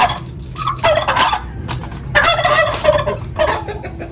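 Chickens in a Filipino backyard breeder flock make loud, clucking, gobbling-like calls in repeated bursts, close by and alone with no talk.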